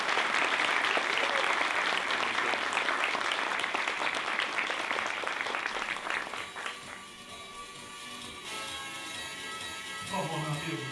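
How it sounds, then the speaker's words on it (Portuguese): A crowd applauds as a guest speaker is welcomed on stage, sustained, dense clapping for several seconds that fades out as music and a voice take over. "uma salva de palmas"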